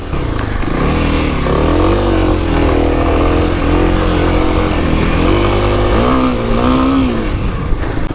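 A 2021 Kawasaki KLX300 dirt bike rides an off-road trail with its engine droning loud and close, the pitch rising and falling as the rider works the throttle over bumpy ground.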